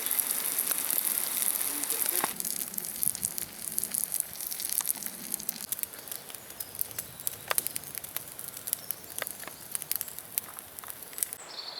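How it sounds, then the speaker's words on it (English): Onions and tomatoes sizzle in oil over a campfire at a woodland camp, a steady crackling hiss with scattered sharp pops, close and fairly quiet throughout. "firstly I'm going to fry off my onions and tomato"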